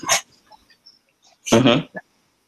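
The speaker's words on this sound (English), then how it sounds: "all the dogs are deciding to start wrestling underneath the feet." Several dogs tussle and yip underfoot, with a sharp bark at the start and a louder burst of growly barking near the end, separated by near silence.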